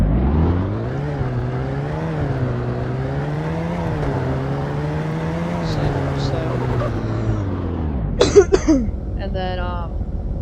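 A car engine with a Golf engine in the game Greenville idles and hums steadily, its pitch rising and dipping slightly as it revs, then drops off, followed by a cough or throat clearing.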